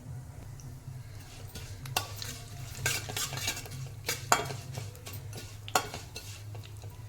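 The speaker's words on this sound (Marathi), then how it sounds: "तीळ मी भाजून घेतलेले नाही आहेत म्हणून मी ते थोडेसे परतून घेणार आहे" Unroasted sesame seeds are sautéed in a pan for methi muthiya. Quiet sizzling sits beneath a spoon's irregular sharp clacks and scrapes against the metal, with no voices.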